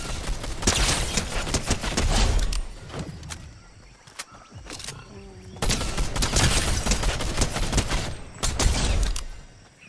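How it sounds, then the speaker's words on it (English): Video game gunfire in bursts of rapid shots, loud and close, with a brief lull in the middle before heavy firing resumes. "Someone else is shooting at me."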